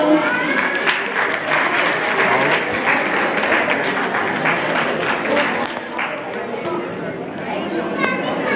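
Loud, sustained applause fills a Sindhi community ceremony honouring mothers-in-law and daughters-in-law, dense clapping mixed with crowd chatter running steadily throughout.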